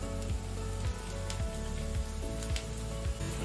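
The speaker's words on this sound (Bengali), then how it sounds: "এই বেসনটাও না এই পেঁয়াজের সঙ্গে ভাজতে হবে।" Gram flour fries with onions in oil over a high flame for a flat bean curry: a close, bright sizzle with repeated scraping strokes of a spatula across the pan.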